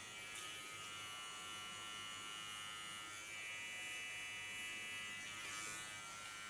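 An electric hair clipper hums steadily and quietly as its blade glides lightly over the skin, sharpening the face line; the faint buzz runs unbroken with no talking.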